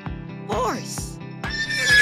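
A horse neighs and whinnies loudly and close by in a short, rising, shaky call, over a steady rhythmic background beat.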